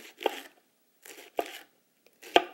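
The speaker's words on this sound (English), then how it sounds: "using my chef's knife, I'm going to use a down and through slicing motion" A chef's knife slicing kale into thin strips, with three distinct crisp cuts spaced roughly a second apart, each a short crunchy rustle of leaves ending in a tap on the board, close and clear with silence between.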